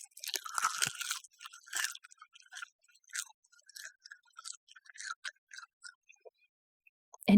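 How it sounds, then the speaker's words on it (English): Crunchy seaweed snack bitten and chewed close up, a run of crisp, sharp crunches in irregular bursts that thin out toward the end, with no talking. "Let's take a bite of the seaweed"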